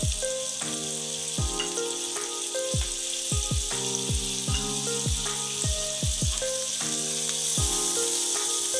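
Paneer frying in a pan, a steady bright sizzle running throughout beneath louder melodic background music with plucked notes.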